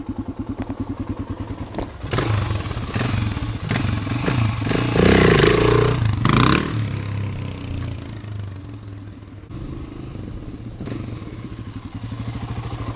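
A pristine 1985 Honda XR350 four-stroke motorcycle engine idles with a steady thumping pulse, then is revved up loudly for several seconds before dropping back to a close, even idle.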